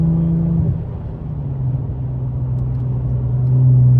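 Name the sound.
2016 Hyundai Genesis Coupe 3.8 engine and exhaust while driving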